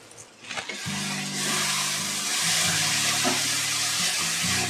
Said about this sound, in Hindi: जब तक से तेल छोड़ना न लगे तब तक से हम भूनेंगे मसाला को